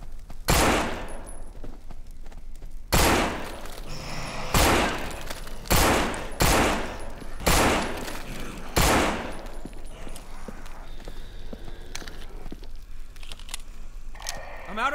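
Gunfire from the zombie survival game No More Room in Hell: about eight loud, sharp single shots spaced irregularly over the span, each ringing out briefly above a low steady background.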